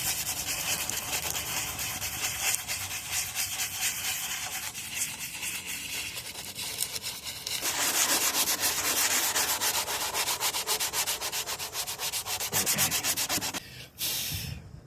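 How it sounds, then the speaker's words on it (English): Hand sanding of rusted metal with 80 grit sandpaper around a rust scab before body filler: steady, close, loud rasping strokes in continuous back-and-forth rhythm, growing harsher midway and stopping briefly near the end. "I guess I got to get out the 80 grit and sand out the perimeter here"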